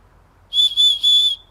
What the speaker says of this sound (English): Because it's a bloody whistle.